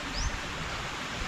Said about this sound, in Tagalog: Kaya naririnig nyo yung lagaslas ng tubig.